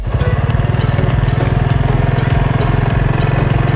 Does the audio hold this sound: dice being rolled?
no